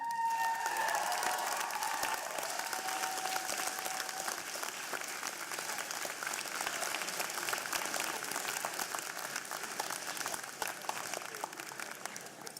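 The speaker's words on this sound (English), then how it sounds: "give them a round of applause" A convocation audience applauds parents and loved ones with sustained, moderately distant clapping, a few cheers and whistles at the start, tapering slightly near the end.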